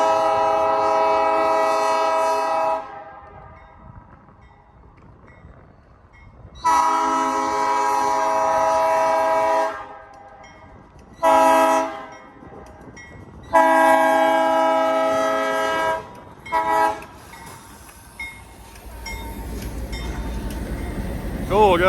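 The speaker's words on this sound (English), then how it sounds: "here comes the train" A grain freight train hauled by older GE and EMD locomotives passes on a snowy short line, sounding several long, loud horn blasts between stretches of rumbling rail noise, with a person talking briefly.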